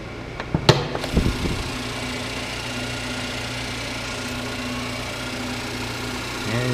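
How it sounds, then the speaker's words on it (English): A four-cylinder car engine idles steadily with a low, even hum after a few brief clunks and knocks at the start. "There's the engine. Run nice and smooth."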